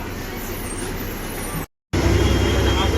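An MSRTC Ashok Leyland BS6 bus idles at Kurla Nehru Nagar bus stand in Mumbai, with a steady rumble of engine and traffic noise. The sound cuts out briefly partway through, and faint voices murmur underneath.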